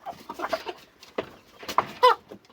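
Black chickens on a farm in Andijan cluck steadily while eating a mixed feed of corn, wheat, sunflower seeds, soy, barley and rice, with several close, overlapping clucks and a louder squawk near the end.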